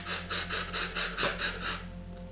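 Close-up rapid breathing through the mouth during a guided meditation, about two breaths per second, with about eight quick, evenly spaced puffs of air in a steady fast rhythm before it tapers off.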